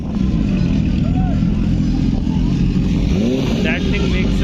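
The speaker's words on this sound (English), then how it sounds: "that is the Ducati Panigale" A Ducati Panigale motorcycle engine at a drag strip during the 2024 Valley Run, a steady loud drone through the whole stretch with people talking over it.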